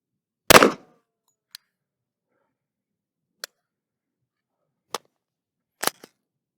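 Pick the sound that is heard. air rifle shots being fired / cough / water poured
air rifle shots being fired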